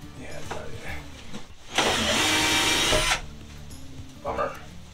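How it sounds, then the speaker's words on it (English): Power drill boring a pilot hole into wood, a single loud burst of whirring motor lasting about a second and a half, set between quieter stretches of room noise and brief background sounds. "So we drilled the pilot hole"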